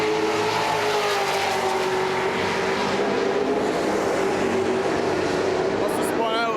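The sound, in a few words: NASCAR race cars speeding past on track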